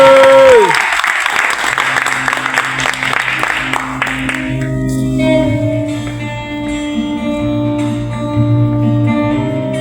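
An audience applauds a singer at the end of a casting show, a loud wash of clapping that fades after a few seconds as a sustained musical backing takes over.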